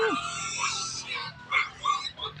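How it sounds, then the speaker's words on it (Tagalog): High-pitched squeals and chirps from piglets, several overlapping calls in quick bursts, fairly close, with some background noise. "ang ingay ng mga biik ko"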